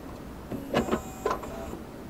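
Roland Modela PCB milling machine switching on and moving, with a few short motor whirs and servo pulses over a low steady background hum, fairly close.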